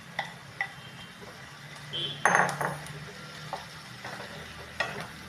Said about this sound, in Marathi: आता आपण ह्याच्यामध्ये हे मक्याचं भरड केलेलं हे घालूया भरड